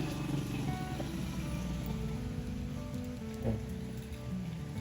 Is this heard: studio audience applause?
no